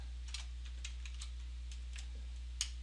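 Faint, sparse keystrokes on a computer keyboard, a handful of light clicks spread irregularly over a few seconds above a steady low electrical hum, with one sharper tap near the end and no speech.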